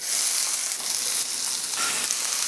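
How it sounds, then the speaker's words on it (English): Diced vegetables sauté in smoking-hot extra virgin olive oil in a pot, a dense, bright, continuous sizzle close up that briefly dips and surges, with no talking. "Get down a couple tablespoons of extra virgin olive oil, EVOO. Saute these veggies in."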